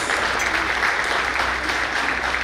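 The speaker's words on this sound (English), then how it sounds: "I request all of you for a big round of applause" A conference crowd at a sub-regional opening ceremony gives a big round of applause, with steady, uniform clapping filling the room at moderate level throughout and no talk above it.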